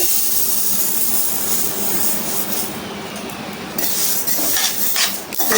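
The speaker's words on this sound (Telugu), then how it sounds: "కళాయి బాగా వేడైన తర్వాత నువ్వులు వేసి వేపుకోవాలి" Sesame seeds roasting in a large kadai pan, a steady close-up dry rustle and scrape with a hissing texture that runs unbroken and fairly loud throughout, with no voices.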